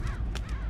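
Crows caw several times in quick succession in the Mark of the Ninja video game as birds are startled into flight, harsh calls rising over a low game rumble, fairly close and loud.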